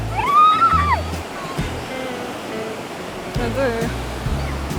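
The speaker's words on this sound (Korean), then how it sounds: "오늘도 파도가 굉장히 좋고" Ocean surf breaks and washes up a California beach on a sunny day with bodyboarders in the water, a steady roar of waves under nearby speech that runs through much of the moment.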